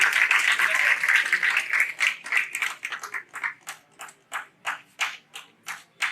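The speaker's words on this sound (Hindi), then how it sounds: "डॉक्टर विमल, तालियां।" Indoor audience at a golden jubilee ceremony in Patna bursts into dense, loud applause that thins out into slower, separate rhythmic claps before fading.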